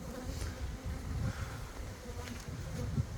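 A swarm of honeybees leaving an apiary hive for a nearby tree makes a dense, continuous buzzing hum outdoors, steady and fairly faint, with individual bees passing closer now and then.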